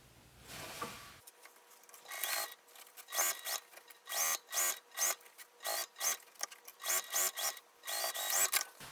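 A sewing machine stitches along an apron edge beside a zipper, running in short bursts separated by brief pauses, each run a close mechanical whirr, with a soft rustle of fabric at the start.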